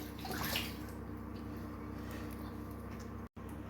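Snakehead fish are rinsed in water, producing a continuous close sloshing and splashing that swells briefly near the start and cuts out for a moment near the end.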